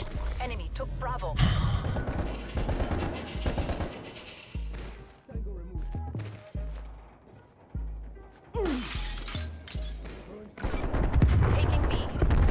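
AUG burst fire in Call of Duty: Cold War, heard as several loud, sharp clusters of rapid gunshots separated by pauses, with clicking weapon mechanisms and a player talking between them.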